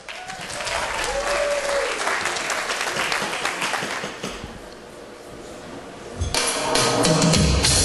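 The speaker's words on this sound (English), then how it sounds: "Clap your hands if you're ready." Wedding guests in a tent clap their hands in a dense, sustained round of applause that dips briefly in the middle and then swells again loudly, with no talk.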